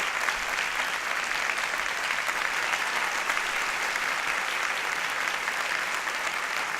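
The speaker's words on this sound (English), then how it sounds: "We have a round of applause to these winners" Sustained applause from an audience at an awards forum, honoring prize winners standing in the crowd; steady, even clapping from many hands fills the whole stretch without pause or voices.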